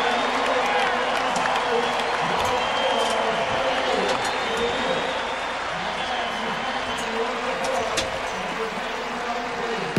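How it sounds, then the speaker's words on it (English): Stadium crowd at the Orange Bowl rising and applauding near the end of a 2002 Miami versus Boston College football game; a broad, distant roar of clapping and cheering runs steadily beneath close broadcast commentary. "And the crowd beginning to stand and applaud here at the Orange Bowl Stadium."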